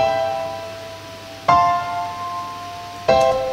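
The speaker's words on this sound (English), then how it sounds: "for the chords, in the start we will just go with the Nexus grand piano" Sustained grand piano synth chords ring out plainly, shifting to a new chord twice, with each change struck clearly and allowed to decay.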